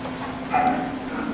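Gun dogs barking, played as a sound effect during a school stage production of the musical Honk, Jr.; a short burst of yips and barks rises over steady hall ambience.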